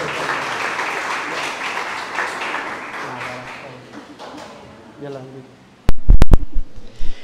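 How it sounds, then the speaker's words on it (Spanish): A congregation at a Catholic Mass applauds steadily for several seconds, the clapping fading out, followed by a few sharp loud taps or knocks. "¡Fuerte el aplauso!"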